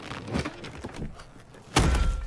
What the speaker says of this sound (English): the bag he's carrying rips off his shoulder with a metallic thud